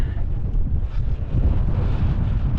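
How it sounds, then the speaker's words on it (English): Strong wind buffets the microphone on a hilltop summit, a constant low rumbling roar, steady and gusty throughout, with no voices. "Quite windy up here."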